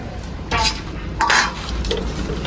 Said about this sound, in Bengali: তো চলো এখন মাছটা ঢেলে দিবে